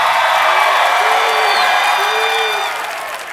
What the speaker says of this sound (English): we got the crowd there